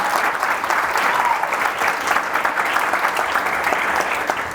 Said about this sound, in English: please clap it up for somebody I respect so much